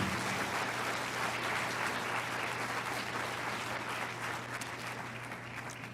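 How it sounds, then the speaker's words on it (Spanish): Loud, sustained applause from a large church congregation, a dense wash of clapping that continues steadily throughout. "Dele otro aplauso al Señor."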